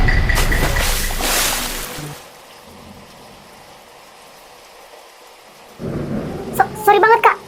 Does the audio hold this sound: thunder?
yes